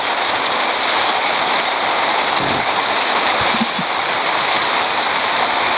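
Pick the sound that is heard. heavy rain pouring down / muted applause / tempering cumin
heavy rain pouring down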